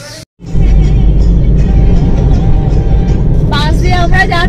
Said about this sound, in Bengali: বাস দিয়ে আমরা যাচ্ছি